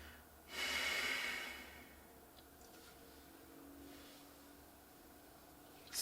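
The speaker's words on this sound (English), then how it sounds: "I don't know why I just yawned." A long, breathy yawn swells and fades over a couple of seconds, close to the listener, followed by quiet breathing in a still room.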